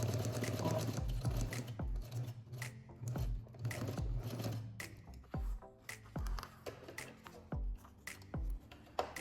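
A sewing machine stitches a curve along a marked line on fabric, starting in a fast continuous run and then breaking into short, evenly spaced bursts of needle clatter, close and clear.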